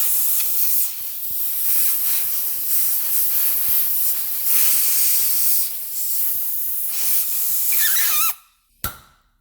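Compressed air blower hissing a steady, loud blast into the rear brake caliper piston of a 2012 Volkswagen Jetta GLI, wavering slightly in pitch, then cutting off abruptly with a final short burst.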